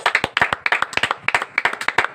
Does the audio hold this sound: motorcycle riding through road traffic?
no